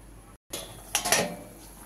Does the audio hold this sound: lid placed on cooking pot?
yes